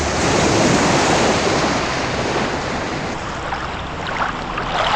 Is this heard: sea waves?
yes